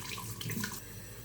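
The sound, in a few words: washing face with cold tap water after shaving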